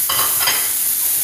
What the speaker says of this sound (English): And we're going to drop our burger balls in.